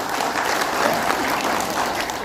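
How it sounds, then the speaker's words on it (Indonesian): Steady audience applause fills the hall at a political meeting, dense and even clapping from a large crowd throughout. "Tepuk tangan ini momentum kita."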